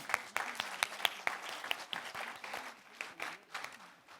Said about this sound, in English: So a big round of applause for yourself.